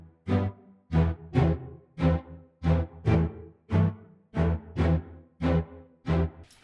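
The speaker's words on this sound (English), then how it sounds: "So the loop started off with some string plucks." Regular plucked string notes repeating in a steady loop, each with a sharp attack and quick decay, clear and up front with no voices.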